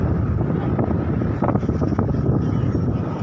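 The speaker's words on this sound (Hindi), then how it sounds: "बहुत हवा है आई एम सॉरी अगर आपको आवाज ठीक से नहीं आ रही" Strong wind buffets the microphone at Kalamb Beach in Nalasopara, a steady loud rumbling roar with gusty swells throughout, no clear voices over it.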